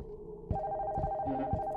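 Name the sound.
telephone ringing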